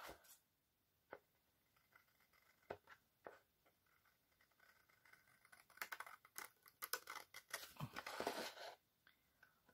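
Scissors cut paper for a scrapbooking project in quiet, scattered snips, growing into a denser, faint run of crisp cutting and rustling toward the end.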